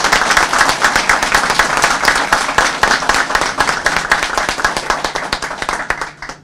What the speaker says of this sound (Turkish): Ankara'dan duyulacak bir alkış Cumhurbaşkanımız için